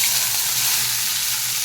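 Chopped onions drop into hot oil with dried red chillies, chopped garlic and green chillies, giving off a loud, steady, close-up sizzle and hiss that continues without a break.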